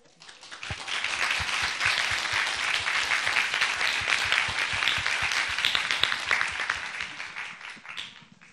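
An audience breaks into sustained applause after a panel discussion at a premiere event, dense clapping rising quickly and holding steady before tapering near the end.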